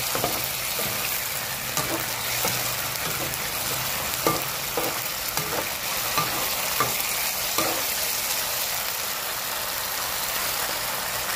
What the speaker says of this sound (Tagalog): Lagyan natin ng sabaw.